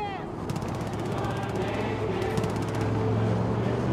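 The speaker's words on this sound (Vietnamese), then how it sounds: "Ui, nó bắn dân mình quá trời rồi." Gunfire in Far Cry 5 as cultists shoot at people: rapid bursts of automatic fire stacked over a steady engine-like rumble and game background noise, moderately loud and continuous throughout.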